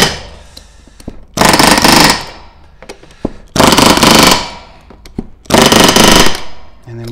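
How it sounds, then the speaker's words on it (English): A pneumatic rivet gun back-rivets an RV-10 aircraft wing, firing three loud, close, sustained hammering bursts of under a second each, separated by quieter pauses with small clicks and handling noise. "And then you do back riveting just like normal."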